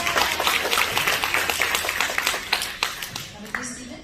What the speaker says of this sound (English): A big round of applause for Adele